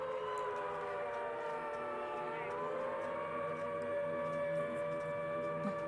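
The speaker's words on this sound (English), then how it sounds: "I like the air raid sirens to start." An air raid siren opens a live concert recording. It gives a sustained, wavering wail that rises and falls, fairly distant and alone, with no talking.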